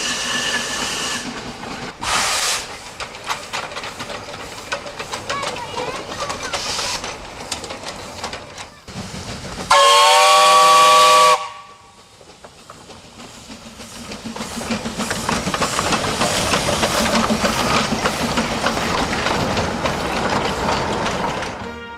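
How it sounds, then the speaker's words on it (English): A steam locomotive's whistle blasts loudly for a couple of seconds amid hissing steam and rumbling train noise, which swells again afterward. "the locomotive whistle needed to be repaired before it could set back out again"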